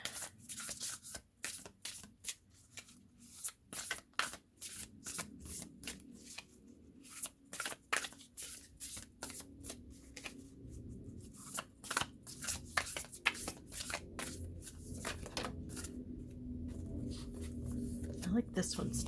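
A deck of cards being shuffled and handled, repeated riffling and sliding bursts in uneven clusters, close by, with a person talking between the shuffles.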